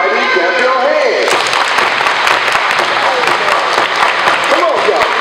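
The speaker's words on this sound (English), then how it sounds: "Everybody clap your hands" Children at an elementary school family fun night clap their hands together in a loud, dense wash of applause, starting just after a voice with music and continuing to the end.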